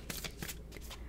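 A deck of playing cards is shuffled up close, with repeated quick riffling bursts in a steady rhythm across a short moment, with no talking over it.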